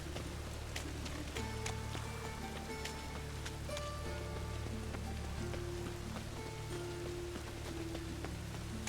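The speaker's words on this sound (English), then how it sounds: "And it's raining again." Rain falls steadily in The Witcher 3, a continuous wash of patter heard alone, with faint scattered tones from the game layered over it.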